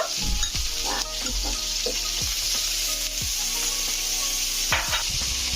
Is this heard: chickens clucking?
no